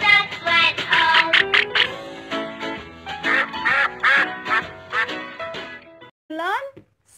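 A children's counting song about six little ducks, with rapid duck-like quacking calls running through a busy musical passage, loud and close, followed by a brief rising squawk near the end.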